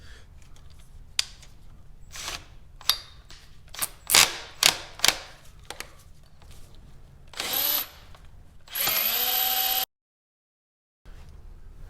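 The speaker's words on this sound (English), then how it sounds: "so I was supposed to drill it more maybe?" A power drill works on a part during maintenance of a 400ex ATV, with short bursts and clicks, then a couple of longer whirring runs, close by in a quiet workshop.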